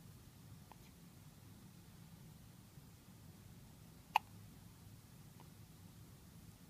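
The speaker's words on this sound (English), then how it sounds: "How does he sleep through hiccups?" A sleeping baby in a hospital hiccups faintly a few times against quiet room hiss, with one sharper hiccup standing out midway.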